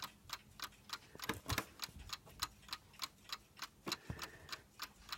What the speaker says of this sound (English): It's quite a loud ticker as well.